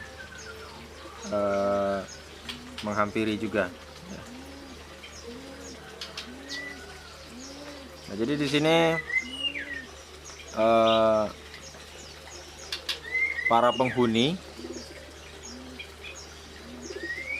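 Aviary birds, including magpie robins and cucak jenggot, feed in a shared cage in the morning. Soft cooing, chirps and wing flaps carry through the enclosure, with someone talking at intervals over them.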